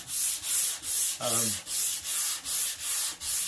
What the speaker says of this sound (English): the last bit of sanding that I do is all done by hand.